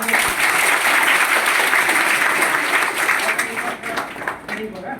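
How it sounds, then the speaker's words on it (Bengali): An audience claps for Sourav at a motivational talk, producing a dense, sustained round of applause that thins and fades toward the end, with voices mixed in. "সৌরভের জন্য একটা হাততালি হোক"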